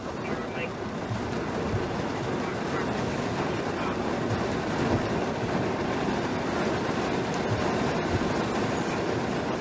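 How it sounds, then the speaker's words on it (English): A heavy rain shower comes down hard in a steady broadband hiss with no breaks, heard from inside a patrol vehicle, moderately loud, with a voice talking over it. "short rain shower here. I see the sun poking out to the west, but it is coming down pretty hard right now."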